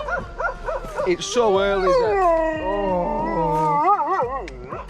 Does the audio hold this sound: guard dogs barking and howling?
yes